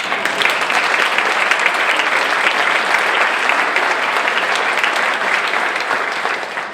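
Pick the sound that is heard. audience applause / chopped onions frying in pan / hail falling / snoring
audience applause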